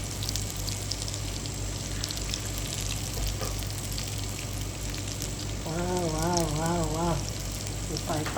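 Akara bean fritters frying in a small pan, a steady crackling sizzle with occasional stirring, and a voice speaking briefly over it.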